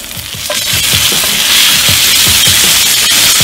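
A thick steak sears on a hot surface during a reverse sear, giving a loud, steady sizzle with repeated soft knocks and scrapes underneath.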